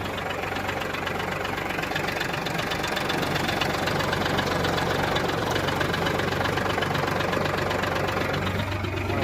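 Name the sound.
4 wheel drive tractor engine idling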